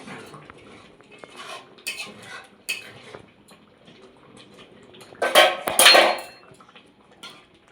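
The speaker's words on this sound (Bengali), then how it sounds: "ডালটা আমার সেদ্ধ হয়ে গেছে, এবার আমি হাতা দিয়ে ভালো করে একটু ঘেটে নেব।" A ladle stirs boiled lentil dal in a metal pot, making sparse, soft clinks and scrapes that build into two louder bursts of clanking against the pot near the end.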